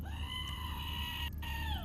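An electronic pocket goat toy plays a sustained synthetic bleat with a steady wavering tone, loud and alone, briefly dipping near the end before resuming.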